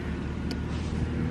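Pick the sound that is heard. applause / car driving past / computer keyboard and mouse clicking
car driving past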